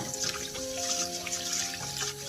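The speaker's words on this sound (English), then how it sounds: "For our mung bean we need to wash it first" Mung beans being rinsed and swished by hand in a bowl of water, several rounds of washing for a Khmer sweet dessert, with steady soft sloshing and trickling close by, no talking.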